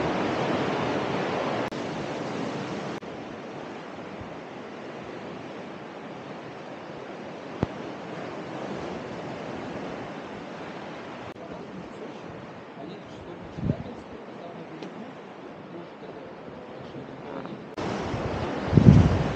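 Steady broadband wash of sea surf on a rocky shore with a rushing, windy quality, continuous throughout, with a few faint knocks near the end.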